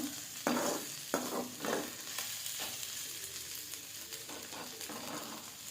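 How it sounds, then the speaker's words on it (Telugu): Gongura flower petals frying in oil in a pan, a continuous soft sizzle broken by several scraping stirs near the start, close by with no talk. "ఇవి గోంగూర పువ్వుల రెక్కలు బాగా నూనెలో వేగనీయాలండి"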